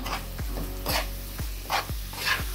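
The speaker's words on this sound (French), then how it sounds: "Je vais rajouter un petit peu de coulis de tomate." Tomato coulis poured into a hot pan for a stuffed crêpe filling, giving a low steady sizzle with soft stirring scrapes and a few short clinks, close and fairly quiet with no voices.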